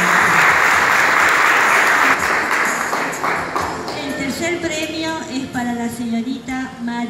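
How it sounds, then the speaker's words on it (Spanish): An audience at the Neuquén Arte 2016 art awards claps steadily, the applause fading midway as a voice begins talking over the thinning claps. "yo quisiera hacer un aplauso para todos."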